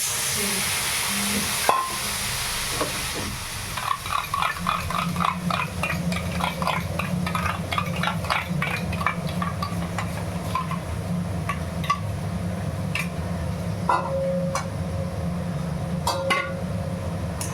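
A vegetarian curry with a little curd sautés in a pan, giving a steady soft hiss and sizzle with light stirring taps and utensil scrapes, close and continuous.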